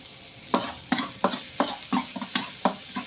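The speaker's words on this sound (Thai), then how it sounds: "ผมก็จะทำการ ผัดแล้วนะครับเพื่อนๆใส่ กระเทียมสับลงไปนะครับ" Minced garlic stir-fried in a pan, heard as a run of about eight quick, evenly spaced scraping stirs over a low, steady sizzle, close and fairly loud with no talking.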